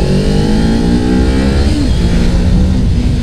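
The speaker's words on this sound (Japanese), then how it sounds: "アクセルをちょっと開けた時の吹き上がり感がね、250じゃないこれ" A 2018 Kawasaki Ninja 250 motorcycle engine revs as the throttle opens, a loud close buzzing drone climbing in pitch, then easing and settling into a steady hum.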